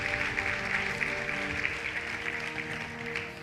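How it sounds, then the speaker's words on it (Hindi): Steady applause from a crowd, a dense patter of clapping that holds for a few seconds. "तालियां बजाइए हमारे रवि जी के लिए और महावीर जी के लिए।"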